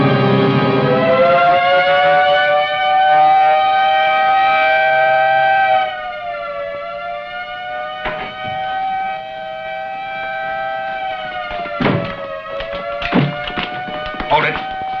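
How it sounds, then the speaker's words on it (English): Prison general alarm siren wailing loud and steady with a rising then slowly falling pitch, joined by several heavy thuds and bangs near the end. "Sound the general alarm."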